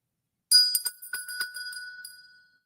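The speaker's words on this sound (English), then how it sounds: "this is a heavy-duty working bell" A heavy-duty brass bell with a wood handle rings out in a quick burst of bright clangs, then settles into a ringing tone that fades over about two seconds.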